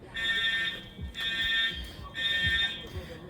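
An Edwards Integrity wall-mounted fire alarm horn in a high school blares in three long, loud pulses separated by short gaps, with voices and background noise underneath.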